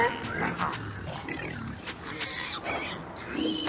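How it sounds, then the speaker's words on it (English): Pigs grunting and oinking in the video game Spore, several snorts and squeals in quick succession against busy game sound. "They were pigs."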